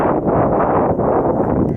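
Strong cold northeast wind buffets the microphone on an open hillside walk near Cheddar, a loud, continuous low roar with gusty surges and no voices.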